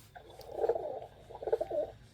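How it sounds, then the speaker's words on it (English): A homing pigeon shut in a basket gives two soft, throaty coos in quick succession, close but quiet. "It's one of Mr. Platt's homing pigeons."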